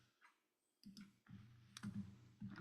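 A computer mouse clicks on on-screen buttons with a few faint, sharp clicks spaced irregularly over soft background noise, close but very quiet with no speech.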